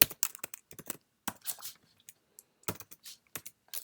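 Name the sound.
typing on a computer keyboard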